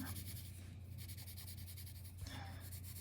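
Pencil shading strokes rubbing across paper while adding cast shadows to hand-drawn lettering, a steady close scratchy texture continuing throughout with a brief heavier stroke near the end, no talking.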